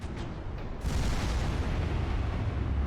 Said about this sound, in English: I think the Novgorod's just firing HE at me.